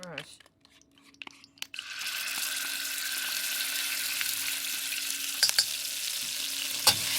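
Chili bean sauce sizzles and fries steadily in hot oil in a wok, a loud continuous crackle starting after a brief quiet pause, with a few clanks of stirring.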